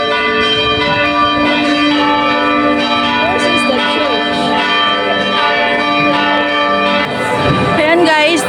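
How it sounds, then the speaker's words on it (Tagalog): Church bells of a church in Valletta, Malta ring continuously with dense, sustained metallic tones, loud and close, over a busy background of crowd chatter. "na tumutunog yung kampana ng simbahan"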